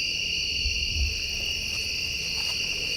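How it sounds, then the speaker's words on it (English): Crickets chirp in a steady, continuous high trill throughout a dense forest at night, loud and unbroken, with faint low rumbling beneath and no talking. "Do you hear something? I think crickets or whatever."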